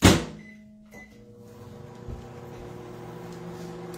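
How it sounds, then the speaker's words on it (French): A microwave oven heating a small cup of homemade hot chocolate: the door thuds shut, control beeps sound, then a steady low hum with a faint rattle runs on, close by. "je vais l'envoyer une minute au micro-ondes"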